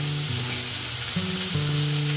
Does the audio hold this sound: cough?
no